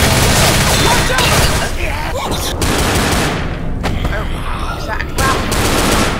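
Dense gunfire and bursts of automatic weapons from the Left 4 Dead video game, loud and continuous across the clip, with players shouting under the shooting.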